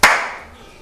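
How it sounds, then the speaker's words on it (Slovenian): A single loud hand clap up close, sharp and bright with a quick decaying ring, heard alone in an indoor studio setting. "Ok, lahko ploskam, evo. No, te ploski, pazi."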